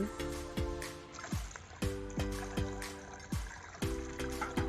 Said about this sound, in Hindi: थोड़ा हम इसमें और पानी डालते हैं कि ये पूरा फुल हो जाए